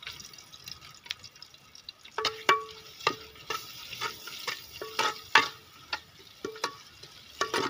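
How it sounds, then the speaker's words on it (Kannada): Half an onion and curry leaves fry in oil in a pan for a Mangalorean egg curry, a soft sizzle under intermittent clinks and scrapes of stirring, fairly quiet and close. "ಅರ್ಧ ಈರುಳ್ಳಿನ ಹಾಕ್ತಾ ಇದ್ದೀನಿ. ಚೆನ್ನಾಗಿ ಫ್ರೈ ಆಗಬೇಕು ಈರುಳ್ಳಿ"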